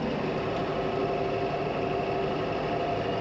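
A tractor engine runs steadily near 1,500 RPM while planting soybeans at about five miles an hour, a dense unbroken drone with low vibration and no variation in loudness across the short span.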